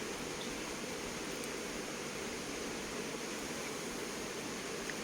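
Squid is washed under running water in a kitchen, giving a continuous, even hiss and splash that stays steady from start to finish.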